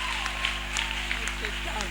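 Applause from a congregation at a church prophecy service, with a dense crowd of claps and scattered sharp hand strikes continuing under a steady hum and a speaking voice.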